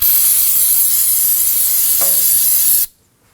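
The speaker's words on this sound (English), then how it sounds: "Using some brake parts cleaner, we're going to spray this" Brake parts cleaner sprays in one steady, loud aerosol hiss onto the front brake hose fitting of a 2014-2020 Acura MDX, running nearly three seconds before cutting off abruptly into quiet.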